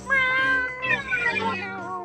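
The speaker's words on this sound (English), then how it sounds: "You can hear the cats meowing and mewling in the background." Cats meow and mewl loudly and close by, overlapping drawn-out cries with wavering pitch that rise and fall across the moment.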